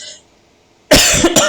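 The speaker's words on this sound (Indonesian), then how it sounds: "batuk mulu" A single harsh cough bursts out close by, with a brief second push after it, following a moment of near silence.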